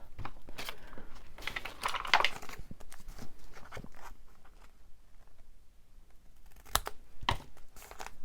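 Scissors snipping a layer of paper off a handmade junk-journal page, giving a few quiet crisp cuts and a soft rustle, with a brief cluster of snips early on and another pair near the end.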